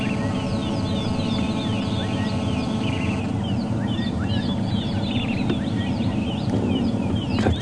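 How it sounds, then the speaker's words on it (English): A woodland kingfisher calls at dawn amid a busy sunrise chorus on a safari drive, with repeated descending trills and chirps over a steady low rumble, likely from the vehicle idling. "There you can hear a woodland kingfisher."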